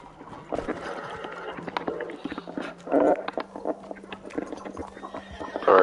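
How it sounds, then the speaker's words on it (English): A horse in the video game Red Dead Redemption 2 whinnies and snorts amid clattering hooves and busy background noise, with a louder neigh breaking through near the middle. "I don't want this ugly ass horse"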